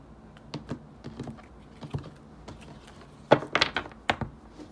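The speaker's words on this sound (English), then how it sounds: "Let's cut this deck." Tarot deck being cut and shuffled by hand, a run of soft card taps and riffling clicks, scattered at first then a tighter burst of crisp card snaps near the end, close and fairly quiet with no talking.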